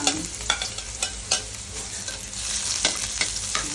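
Garlic sautéing in a little cooking oil for a Filipino ginisang vegetable dish, a steady close sizzle broken by repeated scraping stirs, with no talk over it.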